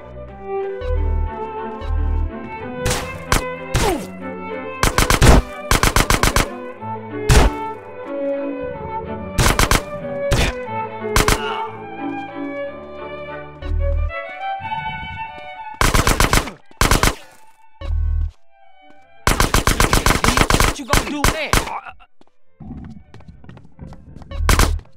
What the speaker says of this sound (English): Look, a gun.